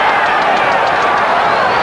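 A boxing crowd at a welterweight bout with Sugar Ray Leonard roars in a loud, dense, continuous wash of cheering and noise throughout a brief burst.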